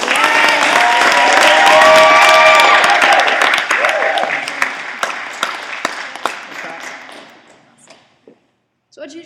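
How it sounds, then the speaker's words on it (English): An audience bursts into loud, dense applause that peaks and then thins into scattered claps before fading to near silence, with a few isolated claps at the very end. "Let's give a big round of applause."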